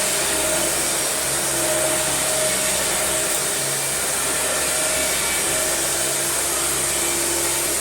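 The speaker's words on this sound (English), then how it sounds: "recline the machine and turn it on" A Dyson DC40 vacuum cleaner runs on carpet with a loud, steady motor whine and airy rush. It holds evenly from start to finish, close by, with no one speaking.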